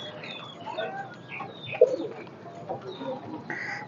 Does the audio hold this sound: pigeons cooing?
yes